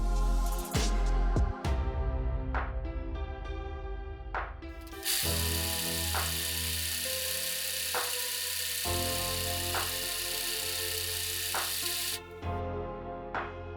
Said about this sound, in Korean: 윗부분에 오버로크를 쳐서 마무리해줍니다.